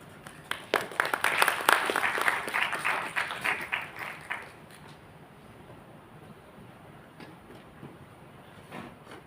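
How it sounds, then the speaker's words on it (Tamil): Applause from an audience at a Tamil-language centenary celebration of The Serangoon Times, a burst of dense, fairly close clapping that swells over the first few seconds and then thins out and fades to quiet room tone. "அவர்களை நாம் பாராட்டுவோம்"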